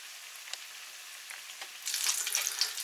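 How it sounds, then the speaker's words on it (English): Salmon and dill fish cakes fry two at a time in a small pan over full heat. There is a soft steady sizzle with scattered crackles that swells into a denser, louder spitting sizzle in the last second. "I like to do these 2 at a time in this small pan"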